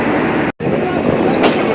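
Rupsha Express intercity train pulling out of Mobarakganj railway station in Jhenaidah, a loud steady rumble of wheels and carriages with one brief dropout, heard close from on board.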